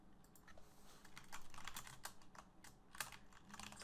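Rapid typing on a computer keyboard while filling in an online account sign-up form, with steady clustered key clicks and a few louder taps, close and fairly quiet with no talking.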